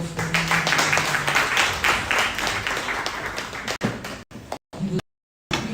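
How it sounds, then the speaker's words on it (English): An audience at a lecture series gives a round of applause for the presenter, a dense wash of clapping that holds steady and then thins out and stops abruptly. "Can we have a round of applause for him?"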